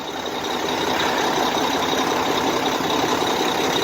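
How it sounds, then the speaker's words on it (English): A Dodge 3500 pickup truck's engine idles as a steady, loud broadband rumble, continuous and unbroken, with no talking over it. "Pretty nice little Dodge there, 3500"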